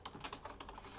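Rapid clicking of keys on a computer keyboard, a quick run of close, soft keystrokes with no voices over it.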